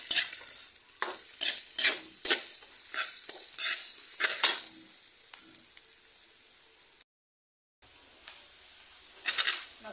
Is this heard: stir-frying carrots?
yes